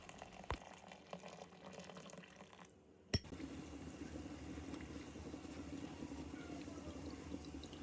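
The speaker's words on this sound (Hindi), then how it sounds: "मैं यहाँ पे ग्रीन टी को गर्म पानी में ब्रू होने के लिए रख देती हूँ" Hot water with green tea in a kitchen, a faint watery trickle and splash followed by a soft clink of glass, then a steady low liquid hiss.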